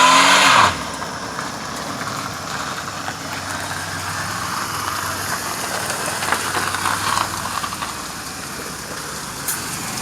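A 1997 Pontiac Grand Prix GTP, with a suspected alignment problem, turns around: a loud burst opens, then the engine settles into a steady, close idle-like rumble with slight swells of revving and no voices.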